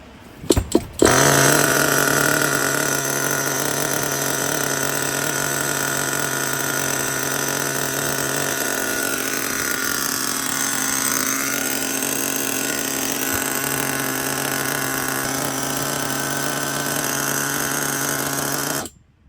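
Nitro RC engine fitted with an old glow plug idling steadily after a quick start, a loud, continuous high buzzing drone close to the microphone that holds even for about eighteen seconds before cutting off.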